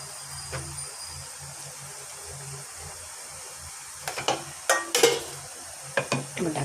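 Fish pieces slide into a pan of vegetables cooking in oil, giving a soft steady sizzle, then a run of close spoon scrapes and clinks against the pan as everything is stirred.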